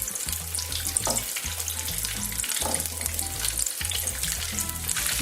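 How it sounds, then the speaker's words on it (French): Breaded chermoula-marinated fish fillets sizzle steadily in hot boiling oil, a close, continuous crackle with brief low clunks from the pan. "ensuite on le dépose dans l'huile bouillante"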